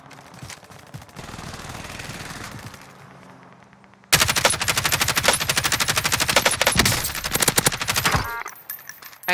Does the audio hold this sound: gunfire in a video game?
yes